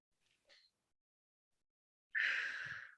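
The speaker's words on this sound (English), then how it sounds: "And just take a deep breath." A single deep breath drawn in and let out slowly, close and fairly loud, following a short quiet pause and a couple of faint earlier breaths, during a guided emotional tapping session.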